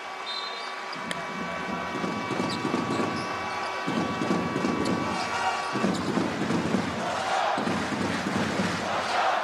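Crowd noise inside a basketball arena in Amman during a Jordan game, a loud, rolling roar that swells in waves with rhythmic pounding and chanting, under a commentator's voice.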